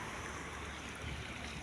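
Steady broadband wash of sea waves and surf by the shore, continuous and moderately loud with no breaks, wind mixed in, and no voices over it.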